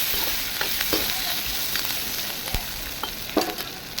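Curry leaves and dried red chillies fry in hot oil for tomato chutney, giving a close, steady sizzle with scattered sharp crackles and pops and no voices.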